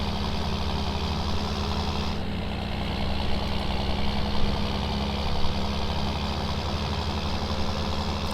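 A freshly serviced John Deere tractor in Farming Simulator 19 runs with a steady, loud diesel drone and low rumble close by, idling evenly with slight surges, no voices.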